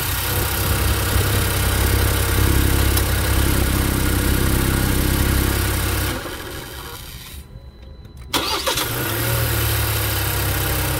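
A 2021 Ford Bronco Sport's engine, steady and loud through the opening six seconds, then drops away to near quiet with a brief clunk before a steady engine hum returns.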